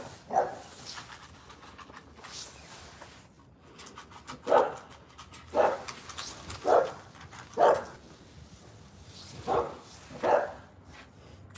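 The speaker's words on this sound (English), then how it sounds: "Look. Watch this dog." A dog gives a series of short, mid-pitched whimpers and yips while eating, about eight spaced bursts over several seconds, fairly close, with low background noise and no talk.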